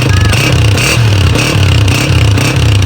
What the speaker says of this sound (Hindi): साउंड सुनो भाई इस मोटरसाइकिल का